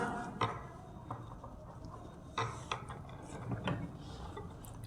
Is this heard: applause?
no